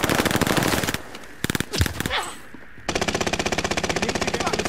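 Rapid machine gun bursts rattle in a video game battle: a loud rhythmic burst, a short lull with a few scattered shots, then another sustained stream of evenly spaced rounds.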